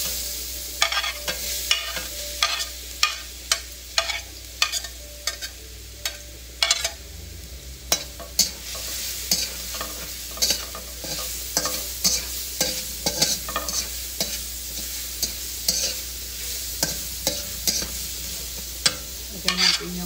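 Garlic and ginger frying in butter and oil in a pan for buttered shrimp, a bright continuous sizzle broken by frequent sharp scraping and stirring clicks from a utensil, close and steady throughout.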